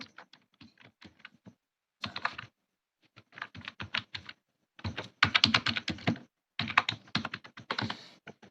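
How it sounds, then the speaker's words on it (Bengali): Keystrokes on a computer keyboard while editing text in AutoCAD: bursts of rapid clicking, including runs of repeated presses, separated by short silences, close and crisp. "এবার এটাকে পুরো ব্যাকস্পেস চেপে পুরোটা মুছবো, মুছে নেম লিখবো"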